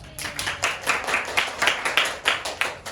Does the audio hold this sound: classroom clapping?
yes